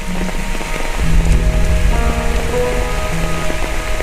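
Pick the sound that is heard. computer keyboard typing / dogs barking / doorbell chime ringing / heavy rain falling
heavy rain falling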